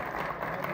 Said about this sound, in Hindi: एक बार ज़ोरदार तालियां आप अपने लिए ज़रूर